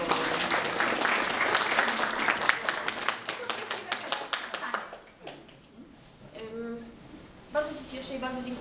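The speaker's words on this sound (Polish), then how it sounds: "Gorące brawa!" Warm applause at a 2016 art exhibition opening in a gallery, loud dense clapping from a crowd that thins out and fades, giving way to scattered talk near the end.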